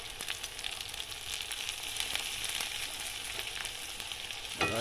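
Onion, turmeric and fish masala sizzle loudly in a pan as tomato goes in for a fish curry, a dense, continuous frying hiss with a brief bump right at the end, with no talking.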